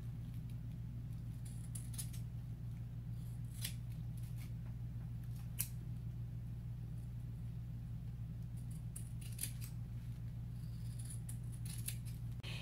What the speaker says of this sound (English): I will grab my pattern, I will put it on top of it, and I will cut like so, from here down.